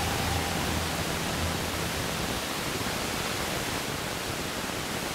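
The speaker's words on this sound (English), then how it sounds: "that is the sound of Tropical Storm Faye spreading heavy rain and strong winds in Seaside, New Jersey today" Heavy rain and strong winds from Tropical Storm Faye lash Seaside, New Jersey, a steady broadband roar of wind-driven rain with no let-up throughout.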